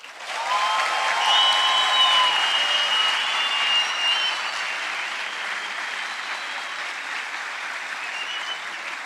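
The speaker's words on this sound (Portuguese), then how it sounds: "Esse é um brasileiro que merece uma salva de palmas." A lecture audience in Curitiba claps for a young Brazilian boy, a loud, steady wash of applause that peaks early and slowly tapers, with a few whistles or cheers riding on top.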